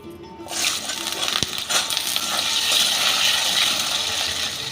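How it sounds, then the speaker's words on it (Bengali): Two long-cut potato slices frying in mustard oil, a steady loud hiss and crackle that holds throughout with a brief clatter early on. "এরকম লম্বা লম্বা করে কেটে নিয়েছি দুটো আলু এই আলুটা ভেজে নেবো"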